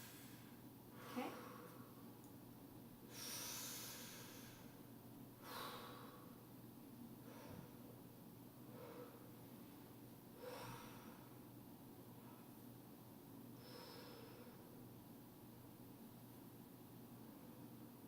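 Patient breathing deeply in and out during lung auscultation in a physical assessment exam, a series of soft, breathy inhalations and exhalations at a steady pace, faint against a quiet hiss.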